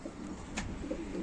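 A homing pigeon coos close by, its soft low-pitched murmur running throughout, with a brief brighter sound in the middle, set against steady background noise.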